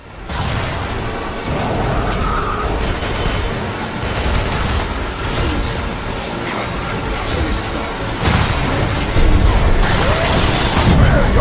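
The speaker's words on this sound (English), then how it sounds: "Destroy those glass tubes to flood the room." Glass tubes shatter and water rushes in inside the underwater setting of the BioShock 2 video game, a loud, dense wash of crashing, bursting and churning noise that continues without a break, with no clear speech.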